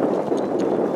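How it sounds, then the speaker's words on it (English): Wind buffets the microphone outdoors in an orchard, a steady, rushing low roar, loud and close, with no other sounds standing out. "oh, it's windy."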